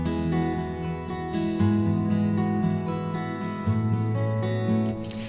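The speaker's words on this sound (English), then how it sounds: "we've got two of the same reverb happening, and they're both big, and they're on these guitars" Acoustic guitars are strummed and picked, with chords that ring out under a big, cathedral-like reverb forming a long, wide wash around every note, full and loud throughout.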